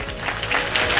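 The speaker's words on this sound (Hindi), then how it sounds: "तालियां और जोर करनी चाहिए भाई।" A short burst of steady, dense clapping from a crowd at a railway project inauguration, loud and continuous throughout.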